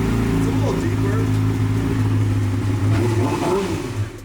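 A motorcycle fitted with a slip-on exhaust revs steadily with a deep, throaty rumble that swells and falls, heard close up while people talk over it.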